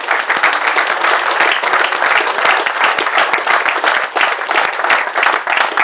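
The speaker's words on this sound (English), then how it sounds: "they also deserve a round of applause" Sustained round of applause from a crowd at a carp fishing charity fundraiser, dense steady clapping that stays loud and even throughout with no talking over it.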